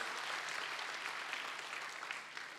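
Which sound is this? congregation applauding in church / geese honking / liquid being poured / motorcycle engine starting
congregation applauding in church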